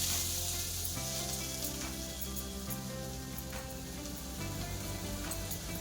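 Three cups of fresh grated coconut frying in ghee in a kadai, a constant crackling sizzle, close and fairly soft, with light stirring.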